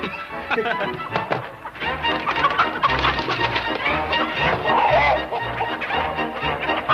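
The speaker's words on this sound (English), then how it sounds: "he was catching chickens" Chickens cluck and squawk in agitated bursts as they are caught, with voices speaking over and between the fowl noises.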